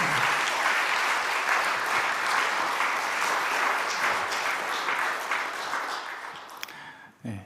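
A church congregation at a Wednesday night worship service breaks into sustained, dense applause for the pastor, holding steady and then tapering off near the end.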